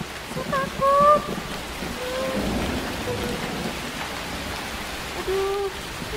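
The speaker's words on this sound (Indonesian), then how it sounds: "Saya takut ada suara petir." Rain and thunder sound effect played during a Sunday school children's service, with a steady wash of rainfall and low rumbling, overlaid by faint tonal whistles and brief voices.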